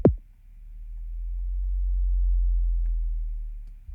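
Synth impact made in the Vital synth: a sharp transient hit that drops into a deep, sustained low tone with a slow pitch bend, swelling and then fading over about four seconds, alone.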